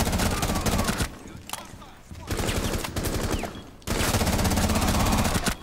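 Rainbow Six Siege gunfire comes in three loud automatic bursts, each about a second or more long and separated by brief lulls, with a speaker's voice faintly audible in the gaps.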